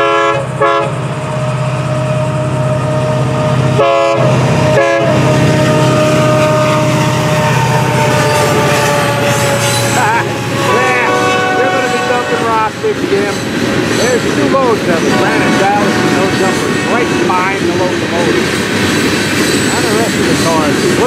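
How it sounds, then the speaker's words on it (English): FEC freight train with Difco side dumper cars rolling past close by, a loud sustained rumble and rail clatter with a few sharp breaks in the noise early on and squealing tones building later; no one speaks. "Sure enough, a couple of side dumpers, Difco side dumpers, tucked in right behind the locomotive."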